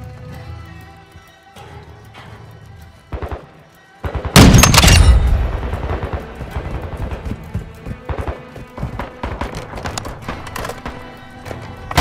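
Gunfire in the video game Call of Duty: Modern Warfare II: scattered cracks early on, then a loud heavy blast, followed by repeated shots and clattering impacts at varying distances.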